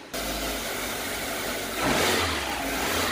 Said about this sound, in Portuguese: Agora vamos fazer o carro funcionar.